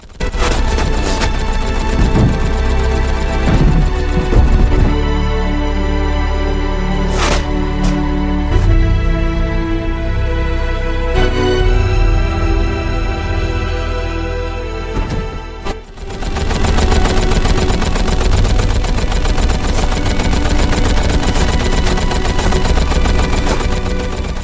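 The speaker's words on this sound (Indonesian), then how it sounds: "Omura memerintahkan kapten pasukannya untuk mengeluarkan senapan Gatling" A Gatling gun fires in The Last Samurai as a battle scene plays under a dramatic film score, with loud rapid bursts and heavy booms layered over dense music that cuts off briefly before resuming.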